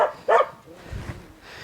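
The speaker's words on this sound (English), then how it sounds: "Boba, what are you barking at all the time?" Boba the dog barking at other dogs outdoors: one sharp, loud bark followed by softer, lower whimpering yips, close to the microphone.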